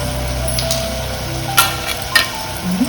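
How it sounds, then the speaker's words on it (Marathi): Prawns and garam masala sizzle in a pan for Goan prawn pulao, a steady frying hiss throughout with two sharper clinks or stirs partway through, fairly close and with no talking. "त्यात सुंगटां घालता. गरम मसाला घालता."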